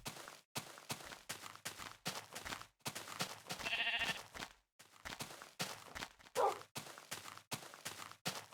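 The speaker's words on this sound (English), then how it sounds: "Sheep, sheep, sheep." Sheep bleat in short repeated calls separated by gaps and stretches of silence, fairly close, with footsteps and rustling between the cries.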